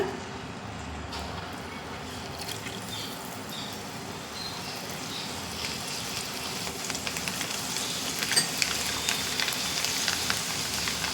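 Moong dal is dropped a little at a time through a sieve into hot oil. A steady sizzle and crackle grows louder and busier toward the end, close up, with no speech.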